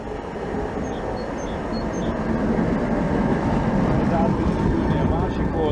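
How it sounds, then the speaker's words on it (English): Prague's number 17 tram approaches with a steady, rising rumble of wheels on rails, a continuous loud rolling noise that builds gradually. "And here comes the 17 tram."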